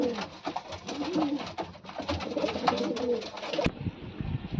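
Pigeons coo in a loft in repeated low, throaty calls that rise and fall close by, with wing flutters and rustling, ending in a sharp knock followed by brief shuffling.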